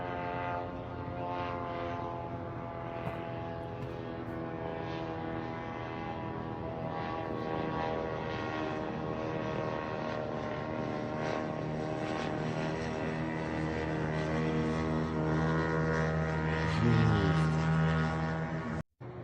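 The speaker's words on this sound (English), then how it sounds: "you still have drones flying in the daylight over there" Propeller-driven drones flying over Moscow in daylight, a steady droning engine hum with harmonic tones that stays loud and continuous throughout, swelling slightly near the end before cutting off abruptly.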